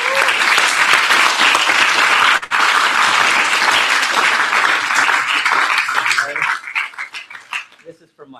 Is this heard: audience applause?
yes